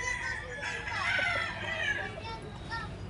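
A fighting rooster crows once, fairly close, in a small backyard gamecock farm, over faint background chatter.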